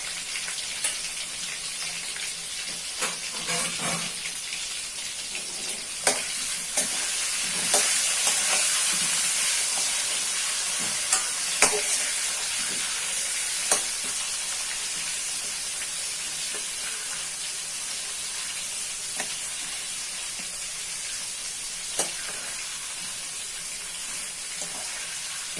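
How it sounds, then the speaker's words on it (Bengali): Potatoes seasoned with salt, chili powder and turmeric fry in hot oil, giving a continuous hiss and sizzle like light rain, with scattered clinks and stirring taps over about twenty-five seconds and no speech. "তেলটা একটু গরম হয়ে গেলে এর মধ্যে আলুটা দিয়ে দেব।"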